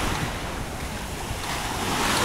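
Sea surf washes continuously on the beach at Tosmur in Alanya, a dense, steady roar mixed with wind buffeting the microphone, rising slightly toward the end, with no voices.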